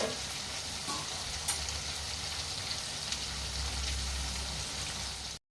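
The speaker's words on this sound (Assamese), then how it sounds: "এতিয়া এইখিনি অলপ আপোনাৰ পিঁয়াজৰ গোন্ধটো আৰু আদা নহৰু চেণ্টটো যোৱাৰ কাৰণে অলপ ভাজিব লাগিব" Onion, ginger and garlic fry in a pan as the base for mutton liver, a soft, steady sizzle and crackle heard close, with occasional stirring clinks and no talk.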